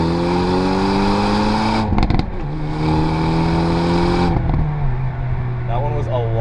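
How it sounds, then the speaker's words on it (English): A 2024 Hyundai Elantra N launching hard from a standstill, with a loud revving engine holding high and stepping through a gear change, and tires spinning in first gear. Someone talks briefly near the end. "That one was a lot smoother, but so much wheel spin in first gear."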